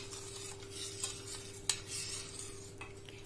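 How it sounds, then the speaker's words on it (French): A sweet prune tajine being stirred in a pot, with a soft continuous scraping swish and a couple of sharp utensil clinks against the pot, fairly quiet and without voices. "Donc là, vous remuez le tout."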